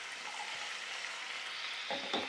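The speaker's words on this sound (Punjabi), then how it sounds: "ਇਹਨੂੰ 5-7 ਮਿੰਟ ਲਈ ਆਪਾਂ ਫਰਾਈ ਕਰਾਂਗੇ ਇਹਦੇ ਵਿੱਚ ਹੀ ਆਪਾਂ ਪਿਆਜ਼ ਪਾ ਦਾਂਗੇ ਫਰਾਈ ਹੋਣ ਲਈ" Tomatoes, capsicum and onion frying in a pan for kadai paneer, a soft steady sizzle throughout with a brief stirring clatter near the end, close and moderately quiet, no voices.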